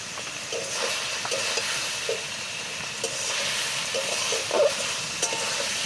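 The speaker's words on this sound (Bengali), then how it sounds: "দেখেন এখন কষানো হচ্ছে" Country chicken stir-fried for Bengali kosha, a continuous loud hiss of frying with scattered spatula scrapes and clatters throughout, no voices.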